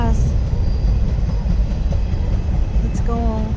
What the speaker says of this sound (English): That's the end of the train, guys.